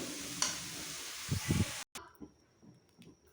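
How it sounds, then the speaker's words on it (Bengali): Fenugreek leaves are stirred in a wok, quiet soft scraping and a few low thumps with a faint sizzle, followed by a sudden cutoff and scattered light knocks. "শাকটাকে নেড়ে চেড়ে নামিয়ে নেবে"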